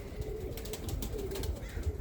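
Birmingham Roller pigeons coo steadily at close range in a loft, low soft murmuring calls overlapping through the whole stretch with no voices.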